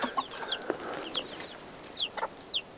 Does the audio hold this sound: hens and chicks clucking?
yes